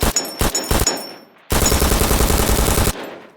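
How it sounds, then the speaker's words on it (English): Loud weapon gunfire in an extraction shooter video game: a few sharp separate shots, then a dense sustained automatic burst lasting over a second before cutting off into a short echoing tail. "One thing that really bothers me about this game is the weapon sound."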